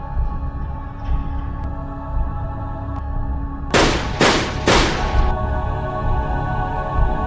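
Three sharp, loud gunshots crack in quick succession over a constant low background hum.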